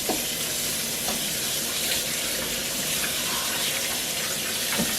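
Tap water runs steadily at moderate force while rinsing a turkey breast, a continuous hiss with faint splashing against a basin, fairly close.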